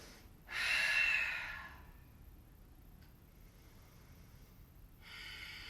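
Deep, audible breathing from a yoga practitioner holding fierce pose during a Sunday flow class: one long breath of about a second, then quiet, then another breath beginning, faint and close, with no talking.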